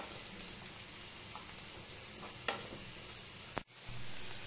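Small pieces of carrot fry in a pan for white sauce macaroni, a steady close sizzle with a few soft scrapes of stirring and one brief knock near the end, no one speaking.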